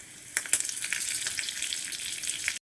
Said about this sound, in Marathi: मी तडका पॅन ठेवला आहे त्यात एक चमचा तेल घातले म्हणजे जिरे आणि मोहरी घालते